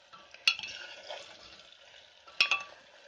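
Onions fry lightly in a pan for a potato dish, a faint, soft sizzle with two sharp spatula clacks against the pan, one early and one near the end.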